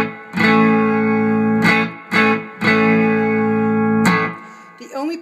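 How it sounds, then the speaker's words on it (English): Clean tone from a Fender Stratocaster played through a pedal board into a Fender Deluxe Reverb amp: several ringing strummed chords, each sustained then cut off, with brief gaps and a few softer picked notes at the end. "here's my clean tone, my Fender Strat, through my pedal board into my deluxe reverb."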